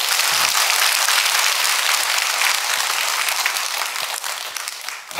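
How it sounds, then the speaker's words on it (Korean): A church congregation at an early dawn service applauds steadily, a dense roomful of clapping that carries on for several seconds before tapering off at the end. "박수 한번 해줘요"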